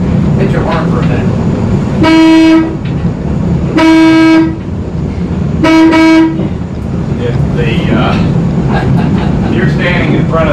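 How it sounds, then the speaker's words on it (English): A Sacramento Valley Railroad train horn blows three loud, sustained toots, evenly spaced, close and strong over rumbling train noise and background chatter. "Hit your horn for a minute."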